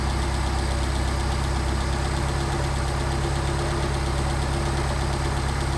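Engine idling steadily after a Solex carburetor rebuild, a continuous close mechanical drone with a faint knocking texture as the RPM shifts slightly, no voices.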